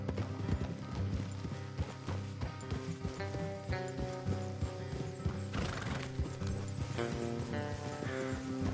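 Horse hooves clip-clop steadily while horses neigh now and then in Red Dead Redemption 2 on PS4, all set against continuous background music.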